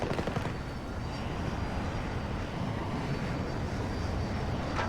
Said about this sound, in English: Man, there's just a lot of aircraft around right now.